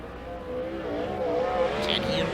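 A 410 sprint race car lapping a dirt track during qualifying, its engine droning steadily and building in loudness, with a brief sharp squeal near the end.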